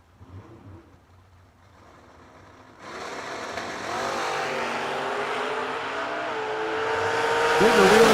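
Drag race cars, Dozier's Mustang and Talmadge's Malibu, launching at a bracket nationals event: quiet track ambience, then a sudden loud roar of engines that builds and stays strong, with an announcer talking over it.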